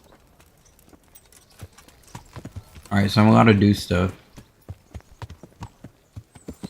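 Horse hooves clip-clop in the medieval game Kingdom Come: Deliverance, a steady series of crisp, moderately loud hoofbeats; midway a horse lets out a loud, close neigh, and someone talks over the start.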